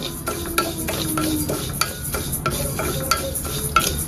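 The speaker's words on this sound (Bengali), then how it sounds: "এখানে আমি মুগ ডাল ভেজে নিচ্ছি" Mung dal being dry-roasted and stirred in a pan over a weak gas flame in a home kitchen, with a steady soft sizzle and repeated scraping strokes of the stirring utensil at close range, and no one talking.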